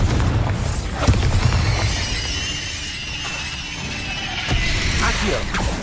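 A Confringo blasting curse in the Hogwarts Legacy game detonates with a loud booming explosion, followed by crackling debris and a second burst later on, with a voice heard over the din.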